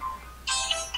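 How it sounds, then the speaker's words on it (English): A cell phone ringtone goes off partway through a quiet moment, bright and electronic, rising abruptly and sounding close and fairly loud with no talk over it. "Sorry, that's my cell phone."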